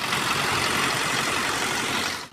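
Tractor engine running steadily while ploughing a field with a 15-year-old at the wheel, a dense, even mechanical roar that holds close and loud, then drops away abruptly at the very end.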